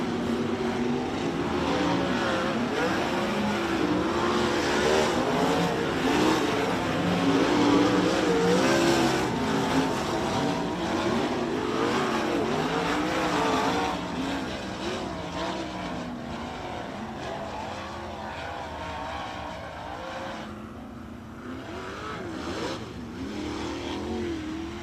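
Sprint cars circling a speedway during a heat race, a dense blended engine roar that rises and falls as the pack passes, loud and continuous before easing off slightly near the end.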